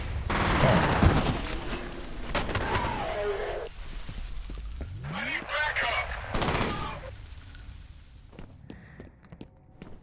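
Gunfire from the shooter game F.E.A.R., with sharp bursts and volleys of shots alongside footsteps, loud and close at the start and thinning out toward the end.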